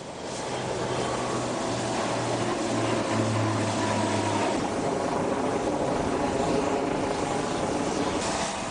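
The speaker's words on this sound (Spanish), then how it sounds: "Helicópteros de ataque a tierra y los AWACS" Attack helicopters and aircraft flying overhead in formation, a continuous loud roar and rotor drone that holds steady throughout, with a low throbbing hum running through the first half.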